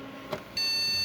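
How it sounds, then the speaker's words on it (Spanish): A desktop computer with no video signal gives an error beep at startup, a sudden steady electronic tone that starts partway through and holds loud and continuous after a soft click and faint hum. "como pueden escuchar nos manda 4 pitidos"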